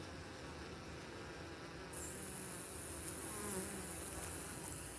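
Honeybees fanning at a hive during a February winter check, a steady, dense insect buzz that holds throughout, with a thin high-pitched tone coming in partway.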